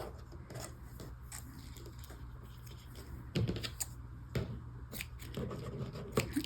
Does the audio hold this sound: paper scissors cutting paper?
yes